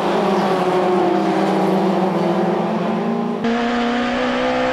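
Touring race cars, a Honda Civic and a BMW, roar loudly at full throttle around the Suzuka circuit in a 1994 JTCC race, a sustained engine drone with one sharp gear change partway through.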